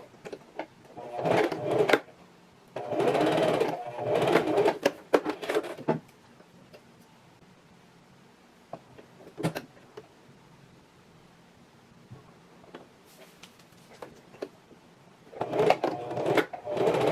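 A sewing machine stitches facing pieces together at the side seams of a strapless drop waist dress in short bursts of a few seconds each, separated by quiet pauses and light fabric handling.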